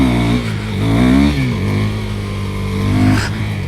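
A KTM Duke 390 motorcycle engine held at open throttle during a wheelie, droning loud and close as one sustained note that rises and dips slightly in pitch.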